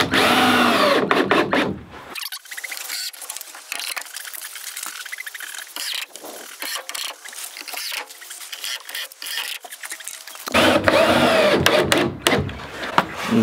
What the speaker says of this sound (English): I cut my chalk line out with my jigsaw, so it's gonna be vibrating pretty good.